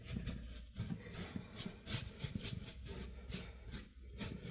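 A squeegee loaded with several paint colors drags across an old painting being reworked, making repeated soft rasping, rubbing strokes at close range with no talk.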